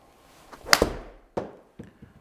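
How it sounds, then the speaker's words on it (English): A thin golf shot hit with no wrist hinge on the backswing or through the ball: one sharp club-on-ball strike, close and fairly loud, followed by a short decaying rustle and a couple of fainter knocks. "you'll pick up from the sound of the shot that it's a bit thin"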